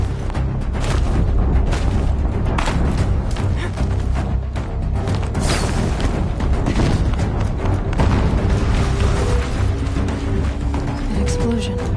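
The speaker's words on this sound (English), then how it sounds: "An explosion." Rumbling booms and crashing blasts from a Horizon Zero Dawn battle roll on for the full stretch, loud and dense with game noise, while someone talks over them throughout.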